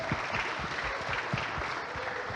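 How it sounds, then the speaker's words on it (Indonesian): An audience at a leadership talk gives steady, dense applause after the speaker, a continuous wash of many hands clapping at moderate volume throughout. "tepuk tangan dulu teman-teman"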